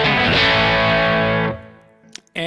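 A thick fuzz electric guitar chord through a Kemper Profiler with a Marshall amp profile and a little reverb rings out loud and sustained, then cuts off, leaving a brief reverb tail before another distorted strum starts.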